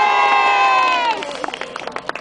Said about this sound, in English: That's a big round of applause for Danny.